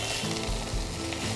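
Vegetables frying with ginger and green chilli paste in a pan over medium flame, a short steady sizzle with a few soft stirring bumps.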